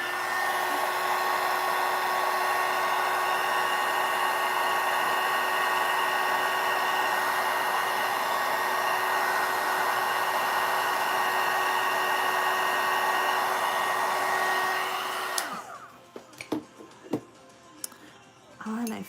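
A hair dryer blows steadily on painted artwork, a loud continuous whine with a constant pitch, then it switches off and leaves faint handling sounds.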